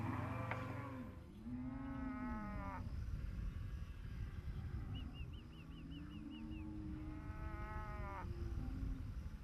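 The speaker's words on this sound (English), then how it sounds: "Cattle from drought-stricken areas are being brought here" Cattle moo repeatedly in long, rising calls from a herd on an outback Queensland stock route, several animals calling in turn at moderate distance over steady ambient noise, with a brief high chirping bird call between them.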